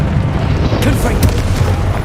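Confringo blasting spell explosions in Hogwarts Legacy, a loud continuous rumbling boom with bursts of crackling impact throughout, dense and close.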